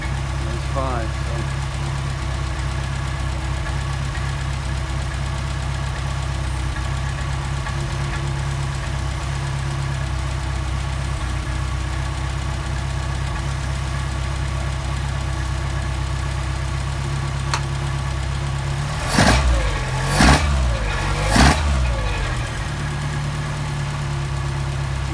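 An engine fitted with a Solex carburettor holds a steady high idle, a loud continuous drone that stays even throughout, with a few brief louder bumps near the end.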